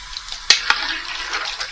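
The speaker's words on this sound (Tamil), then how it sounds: "சும்மா ஒரு அரை கப்பு ஊற்றலாம் போதும்" About half a cup of water is poured into a pot of mutton dalcha curry with lentils and vegetables, giving a brief, close splashing pour with a couple of sharp plops.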